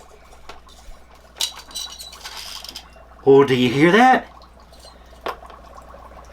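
Dry ice pressed against a metal utensil during a kids' Halloween science experiment, giving one loud, wavering squeal about a second long, with quieter talk and clinks before and after.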